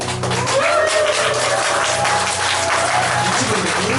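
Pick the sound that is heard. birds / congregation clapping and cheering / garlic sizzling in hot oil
congregation clapping and cheering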